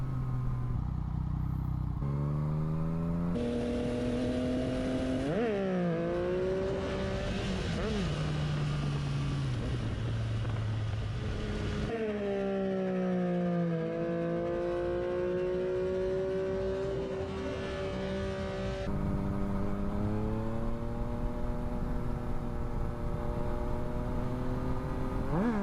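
A Yamaha MT-09 motorcycle engine revs and drops repeatedly during wheelie practice, with rising and falling pitch across gear changes and wind noise throughout.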